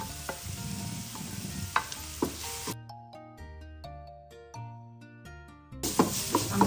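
Onions sautéing in a pan after browned garlic, ahead of shrimp, crackle and hiss with stirring scrapes at the start and end, while a stretch of tuneful background music fills the middle.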